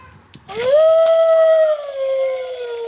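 Halloween decoration wolf letting out a single loud electronic howl close to the mic, starting after a brief click and holding one long steady tone before easing down and fading.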